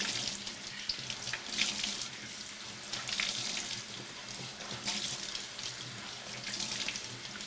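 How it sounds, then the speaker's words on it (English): Cold water runs steadily from a tap while hand-dyed fabric is rinsed under it, a continuous close splashing hiss with small shifts as the cloth moves through the stream; no one speaks. "I'm gonna rinse it in cold water."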